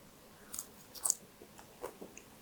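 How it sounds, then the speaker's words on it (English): Someone bites and chews a forkful of apple walnut salad with vinaigrette, making a few soft, close crunches spaced irregularly in a quiet room. "It's gonna be a big old bite."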